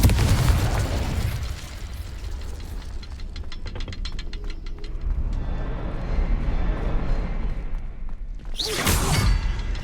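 Incendio fire spell in Hogwarts Legacy, a loud whooshing burst of flame at the start, a crackling, rumbling stretch, then another sharp fiery blast near the end.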